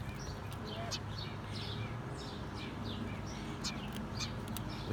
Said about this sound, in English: This little bird hit the mother lode.